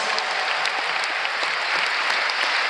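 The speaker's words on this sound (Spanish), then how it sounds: "Un aplauso fuerte para el Señor Jesús." Steady, full applause from a church congregation at a religious convention, a dense wash of many hands clapping evenly throughout, with no voices standing out.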